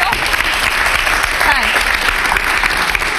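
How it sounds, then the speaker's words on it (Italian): A studio audience claps in steady, dense applause that holds at an even level for the whole stretch, with a voice speaking briefly underneath. "un applauso, no, grazie."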